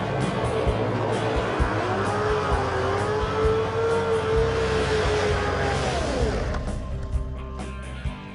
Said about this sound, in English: we'll have each sled accelerate away from our start cones